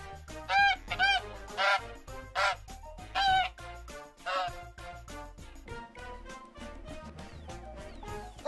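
A goose honks repeatedly, loud and close, a series of harsh nasal calls spaced about a second apart.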